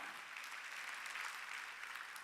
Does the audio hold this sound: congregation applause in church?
yes